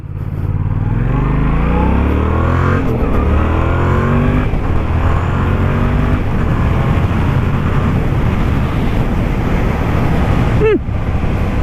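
A 2016 Yamaha MT-07 motorcycle engine revs hard and climbs steadily in pitch as it accelerates from a standstill, loud and close, with gear shifts breaking the rising whine.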